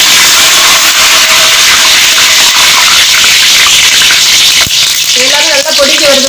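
Five or six cut green chillies hit hot oil for mushroom biryani, making a loud, dense, continuous sizzle that ends with a short muffled voice.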